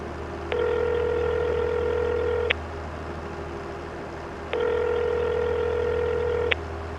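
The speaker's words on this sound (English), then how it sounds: "while we're on our way back, I suppose we better phone Davey" A phone's ringback tone on an outgoing call sounds twice: two long, steady buzzing rings, each about two seconds long, separated by a short pause, over a low engine hum inside a moving vehicle.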